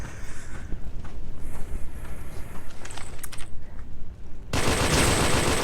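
Gunfire rattles through the VR shooter Special Force VR in rapid, overlapping bursts of shots, ending in a louder, dense volley.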